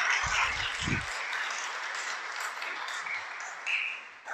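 Faint, distant applause from a crowd, a steady wash of clapping heard from afar.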